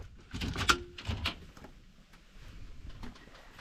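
A door is opened on a campsite by the Finke River in the West MacDonnell Ranges near Alice Springs, giving a few close clunks and a short latch click, followed by quiet rustling outdoors.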